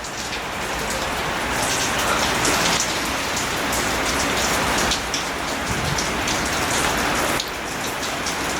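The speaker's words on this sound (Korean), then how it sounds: "이렇게 비가 옵니다. 비가 진짜 많이 온다." Heavy rain pours steadily and loudly onto surfaces outside a home, a dense, continuous wash with no voices.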